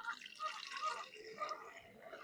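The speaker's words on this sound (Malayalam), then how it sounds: "ഇതിനകത്തേക്ക് സ്പ്രേയറിനകത്തേക്ക് ഒഴിക്കുകയാണ് ഇതിപ്പോൾ ഒരു ലിറ്റർ വെള്ളമാണ്" About a litre of water mixed with chalk powder is poured into a garden sprayer, a steady close splashing and trickling stream that runs the whole time, with no one speaking.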